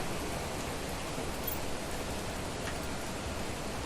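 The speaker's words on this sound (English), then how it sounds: "Wow, it's raining a lot these days." Steady rain in the Planet Crafter survival game, a dense even hiss with no breaks, heard alone without talk.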